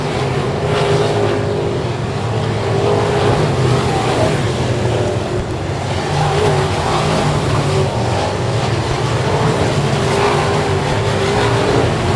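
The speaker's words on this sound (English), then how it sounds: "That 83 car, Swenson, he is fast tonight." Race cars at night at Cotton Bowl Speedway, a dirt oval in Texas, roar continuously as loud, sustained engine noise with pitch rising and falling as the cars pass, packed closely together with no break.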